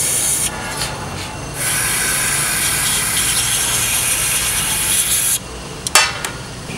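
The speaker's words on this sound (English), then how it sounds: "we've got our oxygen sensor there, which we're going to remove, pull out, and then clean with Lectro Clean" Lectro Clean spray cleaner blasts from an aerosol can onto a car's oxygen sensor, giving a loud, steady hiss that runs for several seconds, with brief bursts before and after.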